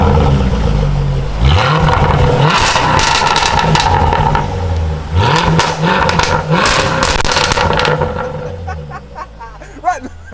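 A loud Porsche engine fires up and is revved with repeated sharp throttle blips, rising and falling roars stacked close together, while people talk over it.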